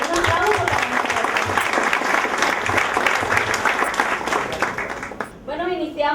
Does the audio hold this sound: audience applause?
yes